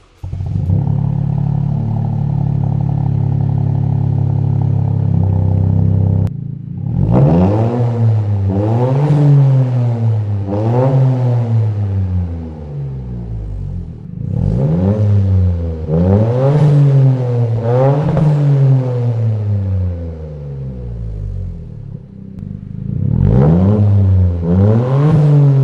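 A Toyota GR Corolla with an AWE Tuning aftermarket exhaust idles with a deep burble, then revs hard in repeated bursts, each climbing and dropping back, loud and close.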